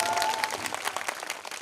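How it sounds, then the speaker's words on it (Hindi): Audience applause at a Hindu mother-goddess jagran, a dense, steady wash of many hands clapping together, close and loud for the whole stretch with no talk over it. "एक बार जरा तालियां बजाओ मेरे गुरु भाइयों के लिए भी"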